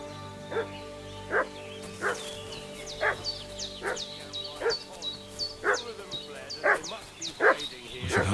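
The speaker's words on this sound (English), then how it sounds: "What's that dog making such a fuss about?" A dog barks repeatedly in Kingdom Come: Deliverance II, about ten evenly spaced barks at a middling distance over a steady background of game music and ambience.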